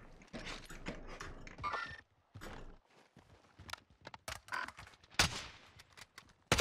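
Scattered gunshots in the Warzone video game, sharp isolated cracks and short bursts amid footsteps and movement, moderately quiet and spread out, with a couple of louder nearby shots toward the end.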